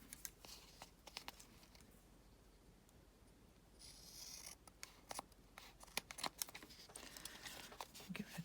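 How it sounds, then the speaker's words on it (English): Fabric scissors trim a small matchbook-sized paper journal, giving a series of brief, sharp, close snips and crisp paper rustles at an uneven rhythm in a quiet room. "Get your fabric scissors here."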